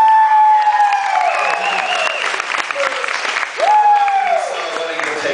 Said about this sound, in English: applause to the Blackburn family.